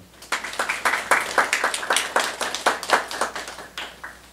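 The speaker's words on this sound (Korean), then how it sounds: "박수 한번 주세요." A church congregation at a Saturday worship service claps together, a dense run of sharp handclaps that swells and holds for about four seconds at moderate distance, with no talk over it.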